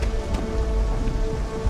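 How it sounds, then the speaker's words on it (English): Rain effects in the video game Starfield: a dense, steady downpour hissing loudly across surfaces, close and continuous, with a faint low rumble underneath and no talk. "I'm not going to talk about the rain effects."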